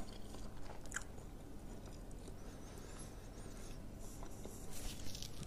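Close, quiet chewing of raw blue runner fish eaten plain, soft wet mouth sounds and faint crunches going on continuously with no talking.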